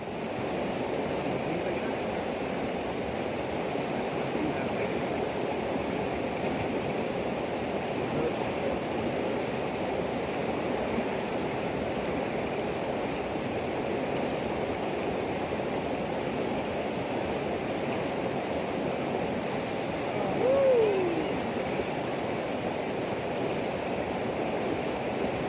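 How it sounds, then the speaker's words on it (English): The Kootenai River flows steadily nearby, a broad continuous rushing wash of water holding even throughout with a brief faint chirp partway through. "we did cold dip in the Kootenai River right here"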